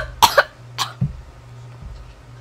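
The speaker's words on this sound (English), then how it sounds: "Just a bit of a cough there." A man coughs twice in quick, sharp bursts, close to the microphone, followed by a brief throat-clearing grunt over a low steady hum.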